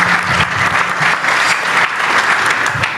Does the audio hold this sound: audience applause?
yes